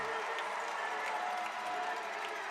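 A sold-out indoor soccer crowd cheers and applauds at full time in San Diego, a steady, broad roar of voices and clapping that holds without a break, with a few whistles.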